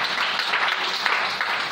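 A church congregation bursts into steady, enthusiastic applause, many hands clapping together in a dense, even wash of sound with a few voices faintly mixed in.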